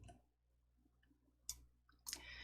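Two distinct mouse clicks, separated by about half a second of near silence, select a font in presentation software, each crisp and close against a quiet room hum.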